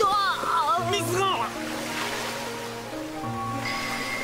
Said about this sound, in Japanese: 水が流れ出して